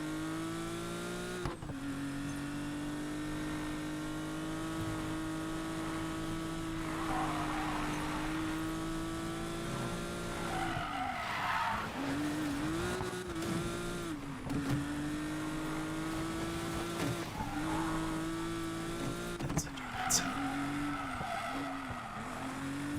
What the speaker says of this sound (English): listen to that air-cooled flat 6. That actually does sound good.